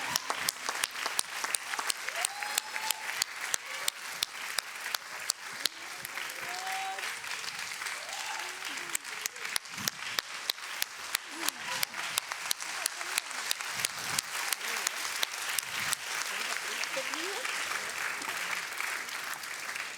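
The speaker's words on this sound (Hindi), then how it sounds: "जोरदार तालियां हो जाए नेहा की गुरु रोशना जी के लिए" A studio audience at a kids' singing show claps loudly and continuously for about twenty seconds, a dense, even roar of applause with occasional voices and whoops faintly heard beneath.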